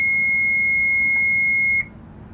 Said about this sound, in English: press and hold the stop button until the alarm and the lights come on